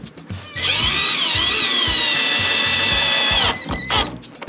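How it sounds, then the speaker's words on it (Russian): Power drill driving a full 50 mm screw into wood, a loud sustained high-pitched whine for about three seconds, preceded and followed by brief clicks and knocks. "я туда могу загнать саморез. Полноценный 50-й саморез."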